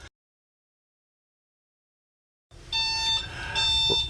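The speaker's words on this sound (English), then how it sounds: "Oh, that's telling me that I got the reverse in." Reverse gear warning on a 2025 Rusi Caruza vehicle, a series of clear electronic beeps that start after a long silence and repeat steadily at moderate volume.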